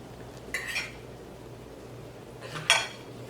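A metal spoon clinks twice against a bowl while rice is served at home, with two short bright chinks about two seconds apart over quiet room tone.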